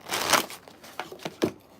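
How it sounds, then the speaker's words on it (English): Tarot cards being shuffled, a crisp papery riffle followed by several short separate flicks and snaps, close and fairly quiet with no talking. "just one more shuffle"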